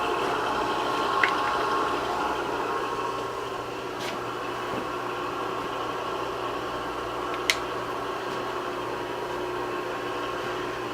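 A Bridgeport milling machine running in back gear gives a steady mechanical hum and whine that stays level throughout, with a couple of faint clicks, heard close and alone with no talking.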